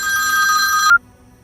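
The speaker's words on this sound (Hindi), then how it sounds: "विपुल का फोन है।" A mobile phone rings with a loud, close electronic trill that holds steady for almost a second, then cuts off abruptly into near silence.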